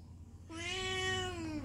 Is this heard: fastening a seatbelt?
no